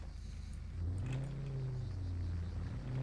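Car engine in a video game, revving up from a low rumble into a rising, wavering whine that holds and dips, fairly quiet overall with a faint background hum.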